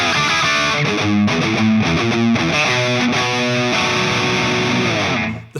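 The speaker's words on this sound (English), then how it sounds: "every preset on this Matribox is drowning in reverb" Heavily distorted electric guitar chords played through a Sonicake Matribox multi-effects pedal, thick and washed in reverb, loud and continuous before cutting off at the end.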